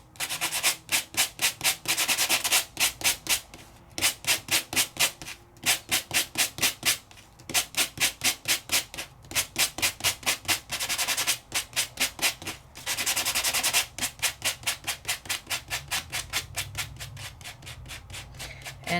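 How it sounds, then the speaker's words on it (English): Rhythmic back-and-forth scratchy rasping of hand sanding, steady strokes in quick bursts with brief pauses between sets, close and fairly loud. "So grab my sanding tool."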